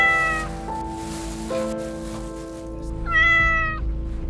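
A kitten meows several times, thin high cries coming close and clear with short pauses between them, over a low steady background hum.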